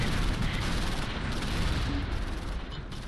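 Mortar and gun fire in the WWII strategy game Close Combat V, set in Normandy: a dense, continuous roar of distant blasts and shots blending into one steady rumble.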